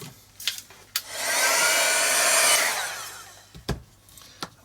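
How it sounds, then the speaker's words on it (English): A heat gun blasts hot air while a Santos cage doll kit is being built, a steady loud whooshing roar that swells up, holds for about two seconds and fades, framed by a few sharp clicks and knocks. "let's give that a quick blast with a heat gun"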